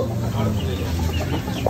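Chickens cluck amid steady outdoor background noise, with a faint continuous high whine overhead and no clear speech.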